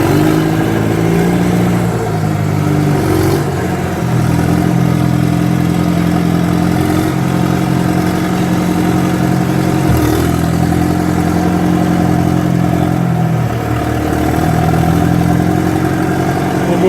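A work vehicle at a logging site drives up to park before loading a skid steer, its mid-pitched engine droning steadily and close, with small shifts in revs and a brief clunk partway through.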